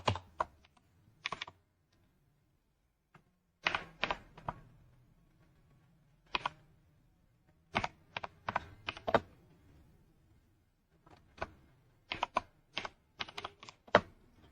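Bursts of typing on a computer keyboard while entering text into an Excel spreadsheet, short clusters of quick clicky keystrokes separated by pauses, close and fairly quiet, with no talk.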